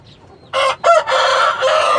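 A Taiwanese fighting rooster crows loudly and close by, a drawn-out cock-a-doodle-doo in several surging segments.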